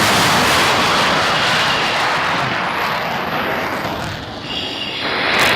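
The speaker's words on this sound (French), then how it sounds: "On poursuit le décollage." A heavy military jet of the French strategic air forces accelerates down the runway and lifts off, its engines roaring as a loud, continuous broadband blast that swells again near the end.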